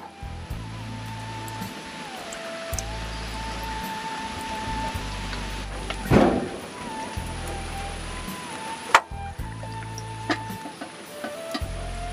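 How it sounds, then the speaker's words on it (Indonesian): Rain falling steadily under bamboo in an Indonesian garden, a continuous hiss with occasional louder drops and a few sharp knocks. "hujan lagi"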